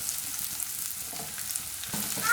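Finely chopped onion sizzles and fries in a pan for gobi fried rice, a steady close hiss with faint stirring and no talk.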